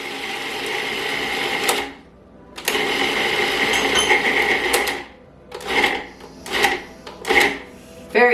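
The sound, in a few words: food processor grinding pesto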